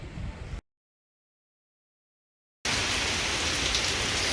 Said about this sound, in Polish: I tak wylew, wygląda ulewa w Chorwacji. Leje.